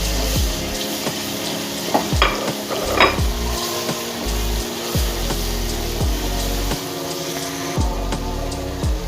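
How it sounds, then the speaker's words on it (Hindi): Ginger and garlic paste sizzles steadily with browned onions in a hot pan while a utensil scrapes and stirs in a regular rhythm, with occasional metallic clinks up close. "अदरक लहसुन भून चुका है मेरा"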